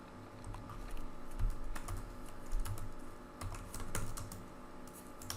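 Rapid, irregular clatter of keys on a computer keyboard as a SQL query is typed, close and moderately quiet, with bursts of keystrokes and brief pauses.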